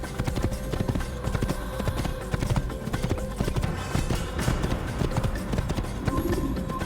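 Horse hooves clip-clop at a steady gallop in an Assassin's Creed-style action video game, loud and continuous over a dense bed of game music and effects, with no talking.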